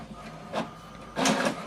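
An HP Deskjet All In One printer runs an alignment page, with two short bursts of mechanical whirring and clatter, the second louder and longer, over a quiet background hum.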